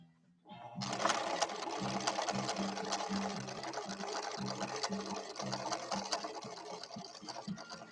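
A ruby red Husqvarna Viking 6460 sewing machine, in need of repairs, runs steadily through a stitch, its fast needle chatter and motor hum loud and continuous from start to finish after a brief quiet opening.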